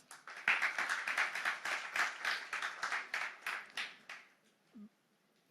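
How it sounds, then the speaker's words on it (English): Applause from the audience at a comedy icebreaker session, a steady burst of many hands clapping for about four seconds, then thinning out and fading to near silence. "Just give yourselves a round of applause."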